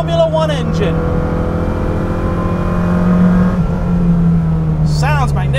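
A sports car's 1.2 litre Coventry Climax engine, in a Type 14 Lotus Elite, hums and revs steadily, with a rising whine near the start and again at the end, loud and close.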